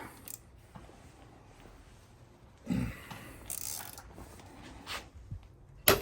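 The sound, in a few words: ratchet loosening Ford Focus motor mount bolts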